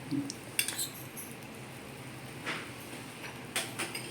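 Spoon stirring a sweet ladoo mixture of basil seeds with cardamom powder in a pan, a few scattered metallic scrapes and clinks against the pan, soft and intermittent.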